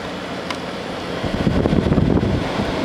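Arctic King 10000 BTU air conditioner from 2017 running steadily after switching on, a broad whooshing fan hum that swells a little louder and rougher partway through, close to the microphone with no talking.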